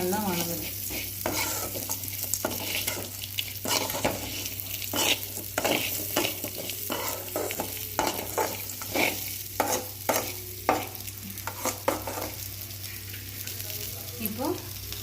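Onions sizzle steadily in a hot pan for Tamil pirandai chutney, with repeated close stirring scrapes and clinks of a spatula over the constant frying hiss.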